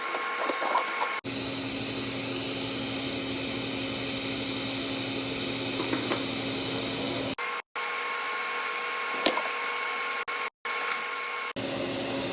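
A TIG welder tacking 303 stainless steel for a putter conversion gives a steady electrical buzz and hiss in three bursts, with short silent gaps between the tacks.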